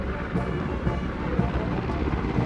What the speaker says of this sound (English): Are Mi-17 V5 helicopters of the 155 helicopter unit.